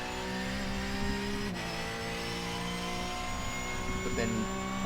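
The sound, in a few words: Porsche 911 GT3 Cup engine, iRacing video game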